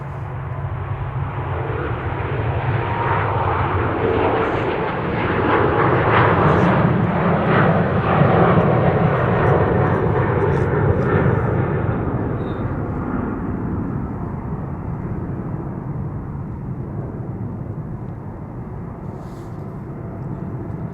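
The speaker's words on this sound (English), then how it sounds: "KLM flight 743, 777-200 to Lima in Peru" A KLM Boeing 777-200 departs Amsterdam Schiphol with a broad, sustained jet engine roar that swells over several seconds and then slowly fades with distance; no talking.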